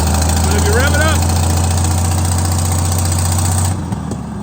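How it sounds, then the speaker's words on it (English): An old tractor engine with a slight stumble revs up loud and close, a steady low drone that drops away near the end, with a brief voice over it early on. "But if you rev it up,"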